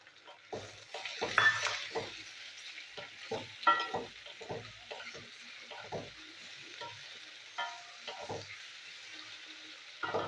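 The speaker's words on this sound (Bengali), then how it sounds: "আলুগুলো ভাজা ভাজা হোক।" Potatoes frying in a pan, a soft constant sizzle broken by repeated scraping and clinking as a utensil stirs them, the strokes coming irregularly every second or so.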